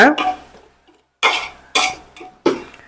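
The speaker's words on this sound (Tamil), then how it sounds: "இந்த பூண்டு வந்து நல்ல பொன்னிறமாக வதங்கணும்" Garlic and onion are stirred in a pot for a large biryani, with several loud separate scrapes and clatters of a ladle against the metal and a short breathy sound at the start.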